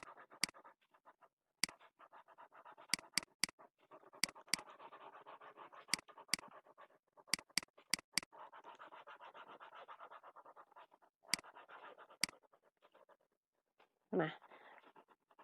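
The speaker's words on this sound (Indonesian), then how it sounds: "Kita hapus dulu papannya." A board is wiped clean with repeated brisk scratchy rubbing strokes, broken by short gaps and a few sharp clicks, close and quiet.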